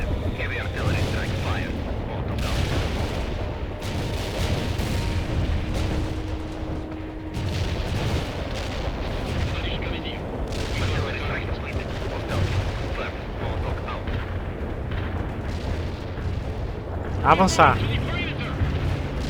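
Artillery fire in the strategy game World in Conflict, repeated deep booms and rumbling blasts rolling under a voice giving orders, with a sharper burst of impacts near the end.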